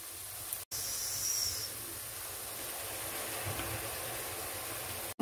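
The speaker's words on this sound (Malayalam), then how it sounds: "ഇനി നമ്മൾ ഇതിലേക്ക് സോയാ സോസ് ഒഴിച്ച് കൊടുക്കണം." Soy sauce poured into a hot pan of fried rice gives a steady, fairly faint hiss that holds for about five seconds, with two very brief breaks near the start and the end.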